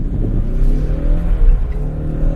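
Ford Mustang with an automatic gearbox accelerating into a drift on a circular course, loud close engine note climbing in pitch with rising harmonics and a throaty rumble, steady and continuous.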